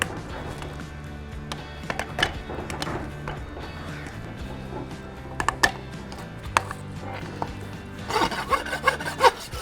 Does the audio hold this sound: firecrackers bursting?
no